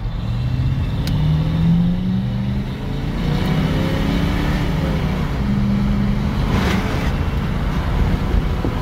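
An older Ford pickup truck with a 460 engine accelerates hard, its loud, close exhaust roar rising and shifting in pitch over about nine seconds with no talk.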